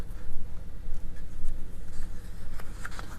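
A pen scratches and drags across paper while inking a drawing, a close, soft, continuous scraping with small irregular strokes and no talking.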